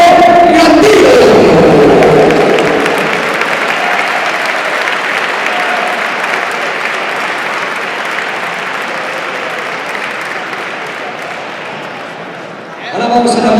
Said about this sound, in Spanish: queremos que le recibamos con un fuerte aplauso